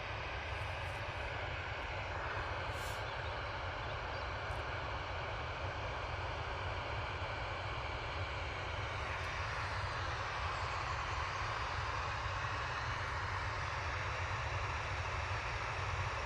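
A Boeing 737 airliner heads out on departure to Barcelona with a continuous broad jet roar. It holds steady and loud throughout, heard from a distance outdoors with no talking.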